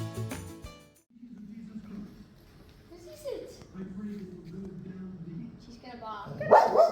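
A dog barks and yips a few times amid quieter sounds, with a burst of barking toward the end; a person talks faintly in the background.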